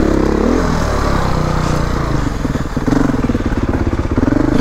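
A Beta 480RR dirt bike growls loudly and steadily on a tough mountain trail, its engine note dipping briefly mid-ride before pulling back up with rhythmic throttle pulses.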